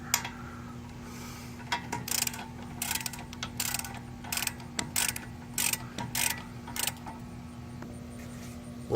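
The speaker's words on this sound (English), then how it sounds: "I'm tightening on this with a 24." A 24 mm wrench ratchets as it tightens a front wheel bearing nut on a 2013 Hyundai Sonata, giving bursts of quick clicking pawl ticks in irregular runs over a low steady hum.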